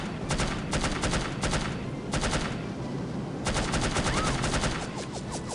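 Automatic gunfire rattles in bursts during play in the video game No One Lives Forever, several rapid volleys separated by short pauses, loud and close, with a few ricochet-like chirps near the end.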